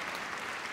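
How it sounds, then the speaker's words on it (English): Dense, continuous applause from the spectators at the Crufts 2016 gundog display, a steady wash of many hands clapping without a break. "Don't forget, you can applaud"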